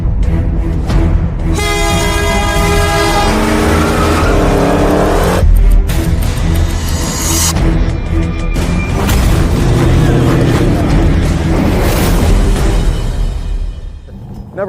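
Cars race on an organized street course lined with cones, lights and guardrails: loud, close engines rev hard with rising and falling pitch sweeps and sharp shifts, one roaring pass after another.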